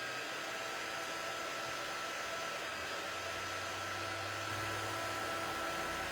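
A handheld dryer blows steadily to dry paint on a T-shirt, a loud continuous whooshing hum that runs unbroken from start to end with a slight shift in tone partway through.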